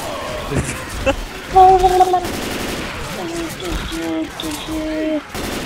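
Gunfire in Left 4 Dead 2, a zombie game, comes as scattered shots and bursts mixed with game sounds, with players talking over much of it.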